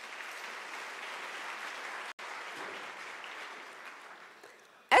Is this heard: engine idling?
no